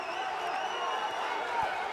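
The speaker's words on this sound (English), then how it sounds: "Crowd rising to fever pitch" A dense arena crowd at a PFL MMA fight roars steadily as a ground-and-pound finish nears, a continuous wash of cheering and whoops with scattered claps, loud and sustained throughout.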